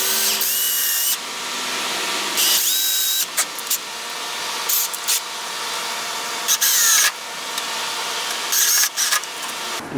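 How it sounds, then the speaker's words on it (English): A power drill bores holes in wood for keyhole hanger screws, whining in loud bursts that start and stop repeatedly, with short pauses between each run of the motor. "Now we just drill our holes and put our screws in."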